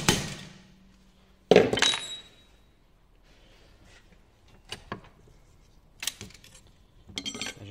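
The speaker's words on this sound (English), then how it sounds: "use a punch, just a punch, into the opposite side of the rivet head just to widen it out" A punch struck with a hammer to widen a rivet head while fitting a Winkhaus Cobra centre gearbox door lock, one sharp close metallic strike followed by several lighter clinks and taps, with no talk.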